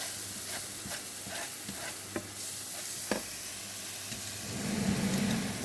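Onions caramelizing in a pan sizzle in a steady broadband hiss while a utensil scrapes and taps through them now and then, with a louder frying surge near the end.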